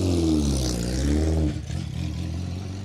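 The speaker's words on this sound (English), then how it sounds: "That is what a Pinto sounds like. Unbridled with no exhaust attached." Loud, rough Ford Pinto rally car engine with no exhaust attached, revving and droning at close range, then dropping to a lumpy idle.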